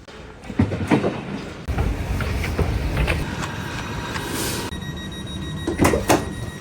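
Rumbling Swiss train carriage noise on the rails, with clattering bumps and a brief sliding thump, fairly close and steady.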